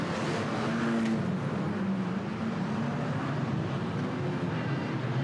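Banger racing cars tear around the track at the 2003 Banger Racing Championships, a loud, continuous roar of several engines close by with no break or talk.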